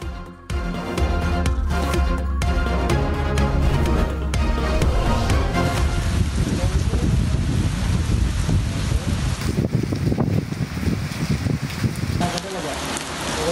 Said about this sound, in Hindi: काली घटाएं, तेज हवाएं और बारिश।